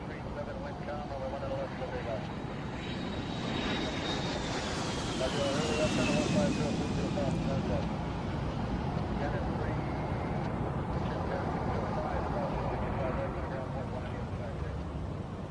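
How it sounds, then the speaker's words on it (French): Janet airline passenger jet taking off toward Groom Lake, a distant rumbling roar with a rising then falling whine, continuous and muffled beneath narration and other talk. "un autre vol Jeannette décolle en direction de Groom Lake"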